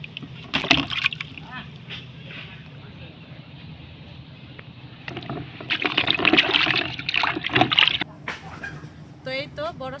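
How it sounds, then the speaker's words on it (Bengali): Raw mangoes being washed in a bucket of water, with splashes and sloshing that come and go, close up, under someone talking and some background voices. "এখন বালতিতে পানিতে আমগুলো সুন্দর করে ধুয়ে নেব।"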